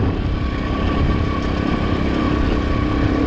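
A Racer 110 motorcycle engine runs steadily in fourth gear while breaking in, giving a continuous close buzzing drone at an even pitch with no pauses.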